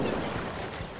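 Rapid gunfire in the video game Mass Effect: Andromeda, a dense burst of shots close and loud that fills the whole moment.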